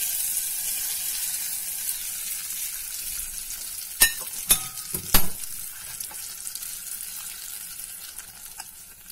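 Curry leaves dropped into hot oil for a tempering crackle and spit in a pan, with a steady soft sizzle and a few sharp pops bunched together midway.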